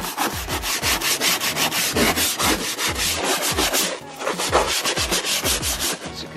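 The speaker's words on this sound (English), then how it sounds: "Stiff bristle brush." A stiff bristle brush scrubs the dirty interior of a minivan in fast, rhythmic, loud strokes, each a close, rough scratching rasp repeating without pause.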